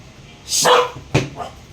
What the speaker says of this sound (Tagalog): Parang libintador yung kahol mo